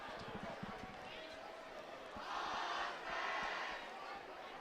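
A distant crowd roars and murmurs at a night high school football game between Lake Orion and Oxford, swelling twice in broad waves while a commentator talks over it.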